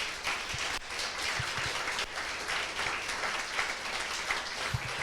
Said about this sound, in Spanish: den un aplauso al Señor, mi hermano.